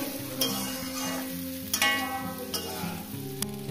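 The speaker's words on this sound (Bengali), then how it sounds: "আলু বেগুন আর কাঁচা লঙ্কা দিয়ে ভেজে নিয়েছি" Potato, eggplant and green chilies frying together in a pan, a steady close sizzle punctuated by a few sharp stirring scrapes, with a faint music bed underneath.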